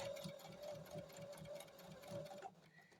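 A sewing machine runs steadily along a fabric seam for a scrappy coozie, giving a close, even rhythmic whir for about two and a half seconds before it stops.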